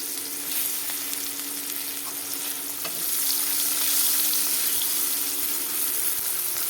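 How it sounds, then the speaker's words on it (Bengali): Sliced onions hit hot oil left over from frying fish and sizzle in a steady, loud hiss that swells a little midway, with no voices over it. "এখন দেখো বন্ধুরা তেলে পেঁয়াজ দিয়ে দিলাম"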